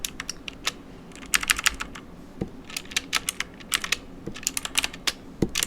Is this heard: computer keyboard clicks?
yes